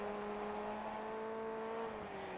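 Formula Ford 1600 engine in the iRacing sim, racing at Charlotte Legends long track, holding a steady high rev with a sustained whining drone, loud and continuous with a slight pitch dip near the end.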